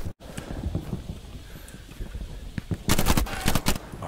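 Bullets striking enemy soldiers' helmets in a shooter game, a series of sharp metallic clinks and gunfire cracks, with a dense cluster of loud hits near the end.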